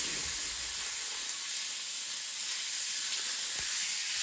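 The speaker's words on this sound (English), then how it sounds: "And now, for the best part, the sizzle. Put these babies on there." A dense, steady sizzle of steaks frying in a hot pan, loud and close, with a constant bright hiss and occasional faint pops.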